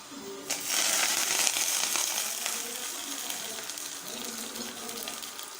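Hot desi ghee tadka poured into cooked daal gives a sudden bright sizzle that bursts loudly, then settles into a softer, steady crackling hiss as it fades.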